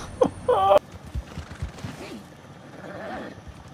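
A horse in the video game Red Dead lets out a short whinny up front, followed by a few scattered thuds like hooves and faint game ambience, with no talk over it.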